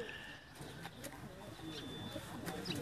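Pigeons kept on a rooftop in Sialkot coo softly in low, repeated calls, quiet and somewhat distant, with faint background voices and a few sharp ticks.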